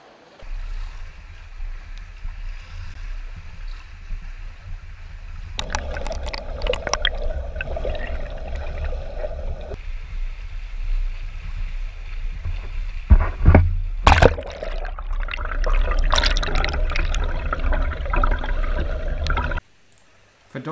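A swimmer sculls through a pool, giving low watery sloshing and gurgling splashes that swell and fade over about twenty seconds, with a burst of louder splashing midway.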